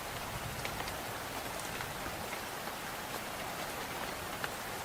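Steady rain falls evenly and densely, a constant close hiss of drops pattering on surfaces with no pauses and no voices.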